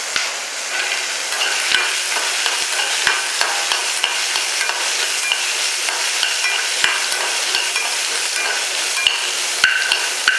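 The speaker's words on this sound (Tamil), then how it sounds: "இப்போ இந்த வெங்காயம் நல்லா வதங்கிடுச்சு" Onions sauté in a pan for a mutton kuzhambu, making a steady sizzle under regular ticking scrapes of a spoon stirring through them, close and continuous, with no talking.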